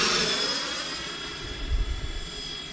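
A Freewing F-14 Tomcat 80mm electric ducted-fan RC jet whooshes past with a smooth, high turbine-like whine and airy roar, fading slightly as it flies by, with no talk.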